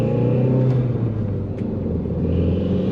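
An Audi TT with an upgraded turbo accelerates in first gear, a loud steady engine drone and rumble from inside the car, rising slightly near the end.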